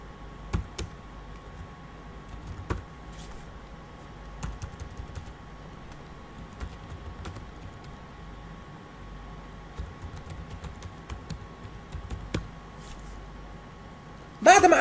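Someone types on a computer keyboard in vim insert mode during a Red Hat system administration lesson, producing sparse, faint key clicks scattered over quiet room noise.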